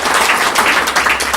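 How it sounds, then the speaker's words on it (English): Audience members at a dental school alumni launch clap for themselves, a loud, dense burst of applause heard alone. "Can you clap for yourself?"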